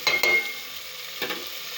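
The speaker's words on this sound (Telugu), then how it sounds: "అల్లం వెల్లుల్లి పేస్ట్ వేగిందండి." Ginger garlic paste fries in oil with a soft, faint sizzle, broken by two brief scraping stirs of a spoon against the pan.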